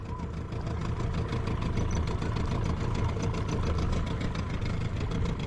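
A small aluminium boat's outboard motor drones steadily and close by, a continuous low rumble with a fast even putter that holds at a constant level throughout.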